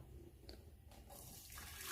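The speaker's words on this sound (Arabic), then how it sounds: "ونديرو الماء سخون." Hot water poured into a cooking pot for boiling potatoes, a brief, faint splashing pour that builds into a brighter rush toward the end.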